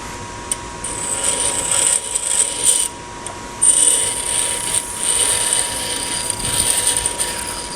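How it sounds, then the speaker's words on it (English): Metal angle assembly held flat against a bench grinder, its outside edges ground down in uneven passes, a gritty scraping hiss rising and falling over a steady motor whine, close by. "lay it flat. Grind off the outside edges"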